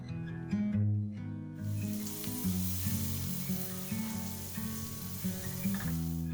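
Garlic, onion and capsicum slices frying in butter for street-style cheese masala pav, a loud, close, continuous sizzle and crackle that jumps up as the vegetables hit the pan, with no voices.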